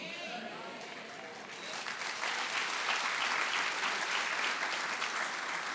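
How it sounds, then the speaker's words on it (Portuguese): A church congregation applauds, the clapping building from a thinner start into a full, sustained round that stays steady to the end, heard from within the room. "Essa salva de palmas não foi muito legal agora"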